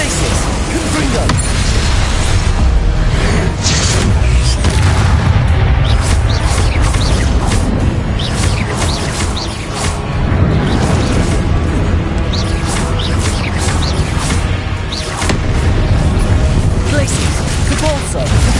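Confringo spell explosions from Hogwarts Legacy combat erupt amid dense, continuous loud battle noise, with booms and crashes layered over constant effects while a voice shouts spell names throughout.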